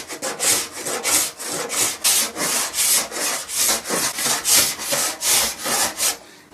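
A scraper is drawn repeatedly across wooden furniture to strip an old varnish finish, giving about a dozen close, loud, rhythmic rasping strokes in an even back-and-forth pattern.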